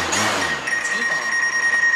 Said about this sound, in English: That sound, that beeping is the fact that it's in the house and it's seeing obstacles